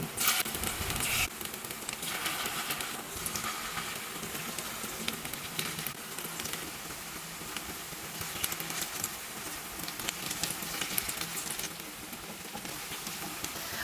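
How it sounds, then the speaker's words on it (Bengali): Steady crackling sizzle of banana flower fritters frying in hot oil, continuous and close, with no voices. "তেল গরম হয়ে গেছে, এবার আমি মোচাটাকে গোল গোল করে বড়ার আকারে ভেজে নেব"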